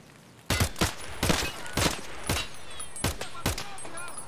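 Gunfire in the video game Escape from Tarkov: about eight sharp, loud shots, single and in quick pairs, spread at irregular intervals over a quiet background.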